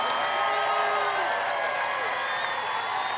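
A large crowd at a Trump rally in Waco applauds and cheers steadily, with whistles and voices in a dense, continuous roar.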